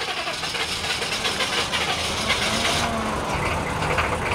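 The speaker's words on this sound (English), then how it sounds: "crank this baby up in Colorado Springs" A car engine runs on a cold morning in Colorado Springs with a steady, close, rumbling roar and a broad hiss that holds without a break.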